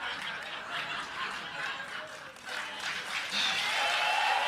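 A small studio audience of about fifty people gives soft, sustained applause mixed with light chuckles, fairly faint and steady for a few seconds.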